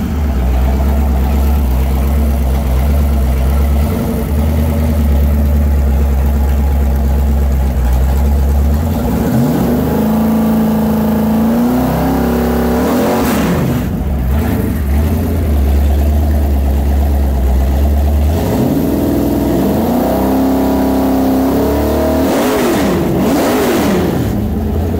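A Ford 351 Windsor V8 with a roller cam and Holley Sniper EFI running loud and close, idling with a lumpy rumble and repeatedly revving up and settling back down.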